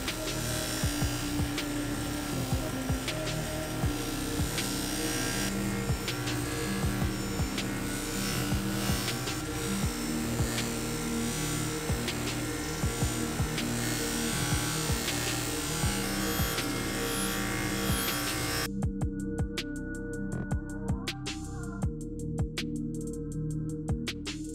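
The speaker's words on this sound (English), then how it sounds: "what I'll be using on the bench grinder is this cleaning pad" A bench grinder spinning an abrasive cleaning pad against a metal motorcycle triple clamp, a loud, steady whirring buzz with rubbing grit that runs continuously and then cuts out near the end.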